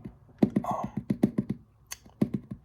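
Buttons on an arcade fight stick are clicked in quick, uneven bursts of sharp plastic taps, close and fairly quiet, with no voices.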